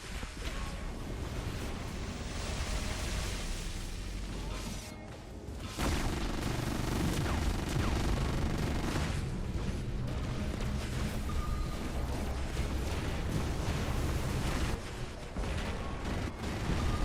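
Sustained gunfire and booming impacts from an enemy robot in the War Robots game, a dense continuous barrage that drops briefly near five seconds then resumes loud and steady.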